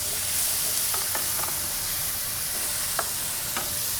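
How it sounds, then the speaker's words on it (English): Potatoes cook in a pan with coconut milk, a steady close sizzle and hiss with a few soft stirring clicks scattered through it. "So I like to get the potatoes in here to give them a head start cooking"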